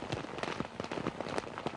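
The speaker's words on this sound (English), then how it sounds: "it's the rain beating on the camera during the typically tropical downpour which beset the first day" Heavy tropical downpour during a Sulawesi jungle expedition, rain beating directly on a camera in dense, irregular spattering taps, close and steady with no voices.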